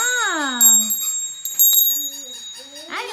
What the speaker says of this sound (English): Oh, look. It has a bell. Let's see if it works. Nice bell.